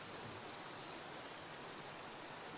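Steady, faint broadband rush of running water, like a stream or trickle, heard in a dark castle passage during a ghost hunt; continuous and even, with no voices.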